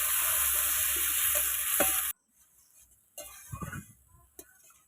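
Onion paste with spices fries in a pan with a loud, dense sizzle for about two seconds, then cuts off abruptly to near quiet with a few soft clinks and scrapes.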